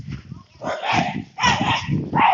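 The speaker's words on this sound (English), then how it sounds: "we got a little dog puppy" A little puppy barks in a few short bursts, close and fairly loud, with sounds of people nearby.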